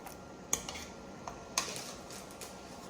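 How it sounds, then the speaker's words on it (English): A slotted spoon clinks a few times against a pot or bowl while lifting snap peas into an ice bath, with sharp, light metallic taps spread out and fairly quiet. "I'm going to pick these up, in fact, with my mother's slotted spoon."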